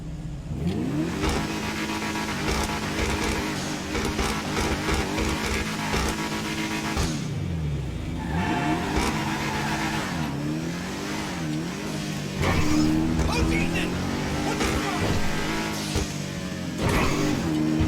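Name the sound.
Albany V-STR car engine in video game GTA 5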